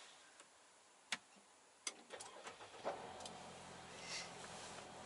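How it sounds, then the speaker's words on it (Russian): A Mercedes GLC 250 car-share vehicle starting up: a few sharp clicks and taps, then the engine catches and settles into a quiet, steady low idle inside the cabin. "Вот так заводится машина."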